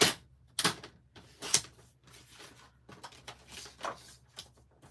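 Stampin' Up designer series cardstock being cut into card fronts, heard as a run of short, crisp scraping and clicking bursts with brief pauses between them.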